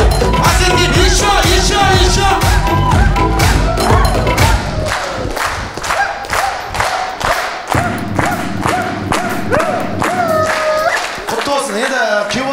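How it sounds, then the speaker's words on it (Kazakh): Wedding guests shout and clap together in a loud, dense burst of rhythmic applause and cheering, with a host's voice and music mixed in near the front. "Давайте айқай-шу шапалақ болсынды!"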